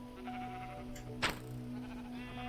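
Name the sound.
sheep bleating in the video game Minecraft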